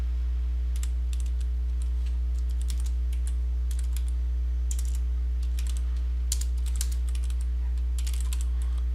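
Typing on a computer keyboard during a computing class, with irregular bursts of key clicks spread throughout over a steady low electrical hum.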